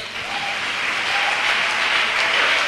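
A church congregation claps together in sustained, dense applause that builds slightly and holds steady throughout, fairly close and loud.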